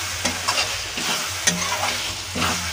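Chopped ripe tomatoes and spice paste sizzle in a pan, a close, continuous hiss punctuated by a few scraping stirs.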